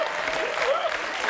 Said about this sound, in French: On peut applaudir Denise